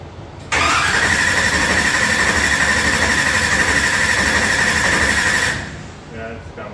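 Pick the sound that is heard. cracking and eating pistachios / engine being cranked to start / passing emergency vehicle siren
engine being cranked to start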